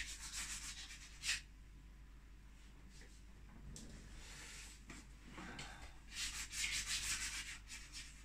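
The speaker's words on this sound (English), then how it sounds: "my little trusty eraser performs very well when it comes to depicting grass" An eraser rubs across drawing paper to render grass, making quiet, intermittent scratchy strokes in short bursts, with a livelier flurry of rubbing toward the end.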